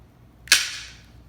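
A Henry lever action rubber band rifle fires once, a single sharp snapping crack with a short fading rattle in an otherwise quiet space.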